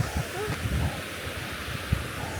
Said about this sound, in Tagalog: Ang sarap pakinggan ng tubig,